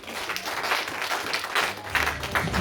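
A church congregation applauds during a French-language sermon, with steady, dense clapping from a crowd and no clear talk over it.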